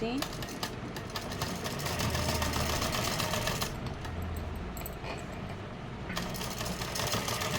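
Sewing machine stitching the neck of a suit along the buckram, a steady close mechanical whirring and rattling that runs throughout with brief changes in pace, while a voice speaks over it.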